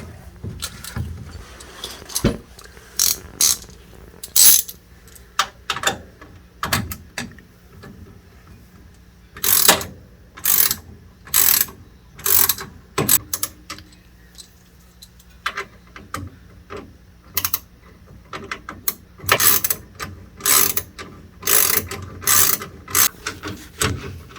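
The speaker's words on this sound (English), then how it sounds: "All right, now we'll tighten those down." Ratchet wrench tightening Wilwood disc brake bolts on a 1968 Mustang during a drum-to-disc conversion, in bursts of rapid clicking with short pauses, close and loud.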